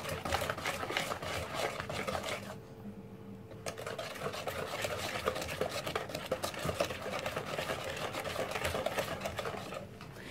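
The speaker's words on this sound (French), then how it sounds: "Et on mélange. Ça va devenir une belle pâte." An electric mixer whirring through apple cake batter, a steady buzzing motor drone with rapid rhythmic beating, briefly dropping off for about a second before resuming and running on without speech.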